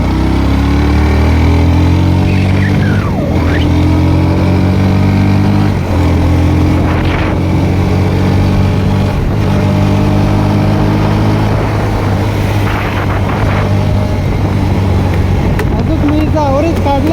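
A vehicle engine drones loud and steady through a morning drive, with gear-like pitch shifts rising and falling and a voice speaking over it.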